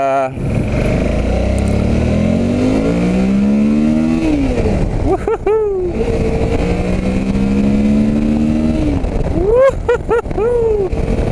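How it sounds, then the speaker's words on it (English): A Jeep engine growls loudly through the clip, with rising revs that climb in two long pulls, and bursts of speech or shouting cut in briefly over it. "gotta love this engine, it's ridiculous"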